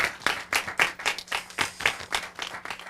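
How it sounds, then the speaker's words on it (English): Audience applause for students at a career panel event: a room of people clapping steadily with dense, rhythmic hand claps close by, no talking over it. "can we give another round of applause for our students,"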